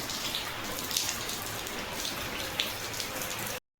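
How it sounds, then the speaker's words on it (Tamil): Heavy rain falls outside in a steady dense hiss, with sharper drips landing now and then, continuous for several seconds before cutting off abruptly. "எங்கள் ஊரில் நல்லா மழை வருது பாருங்கள்."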